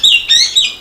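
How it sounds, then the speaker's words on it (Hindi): Pet birds kept inside a house give three bright, high chirps in quick succession, loud and close, with no talking. "उनका ये घरौंदा आज इन पक्षियों की चहचहाहट से गुलजार हो गया है।"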